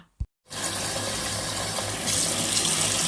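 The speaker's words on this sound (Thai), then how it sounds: "เราล้างน้ำเย็นเพื่อหยุดความหยุดความร้อนของเขาค่ะ" Cold tap water gushes steadily into a sink to rinse blanched dandelion greens for pickling. A brief knock comes first, then a continuous close rush of running water with no talk.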